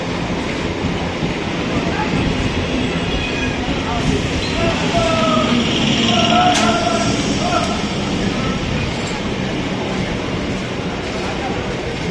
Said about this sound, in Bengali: এই আমাদের ট্রেন ঢুকে পড়েছে